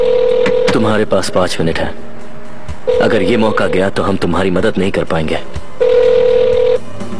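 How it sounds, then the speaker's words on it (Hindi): A steady electronic phone ring sounds in three bursts, spaced a few seconds apart, while a person keeps talking over them. "लेकिन हे, वो मेरा फोन है।"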